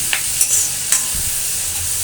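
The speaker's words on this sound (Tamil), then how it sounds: "வெங்காயத்தை கொஞ்சம் நல்லா லைட்டாக கோல்டன் ப்ரௌன் கலர் வந்தோடனே தக்காளி ஆட் பண்ணிக்கோங்க." Onions fry in a pan with a steady bright sizzle while a utensil stirs them, giving a few soft scraping clicks over the continuous hiss.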